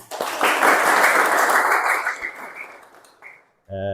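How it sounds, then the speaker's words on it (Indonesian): Classroom applause from a group of vocational high school students in a counseling session, a burst of clapping that swells, holds and then tapers off, ending in a short moment of silence before a voice begins. "Tepuk tangan semuanya."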